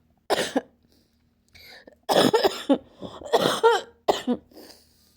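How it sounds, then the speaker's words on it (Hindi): A person coughs several times in harsh, raspy bursts with short pauses between, close and fairly loud, with some throat clearing. "ये खांसी भी मुझे बहुत भयंकर हो गई थी"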